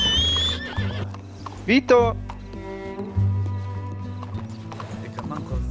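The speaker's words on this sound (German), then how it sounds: "Gehen wir auf die Pferde und reiten zu den Minen." Horses in the Red Dead Redemption 2 video game whinny loudly in two sharp bursts, with hooves clip-clopping steadily throughout, while a voice calls out over the game sound.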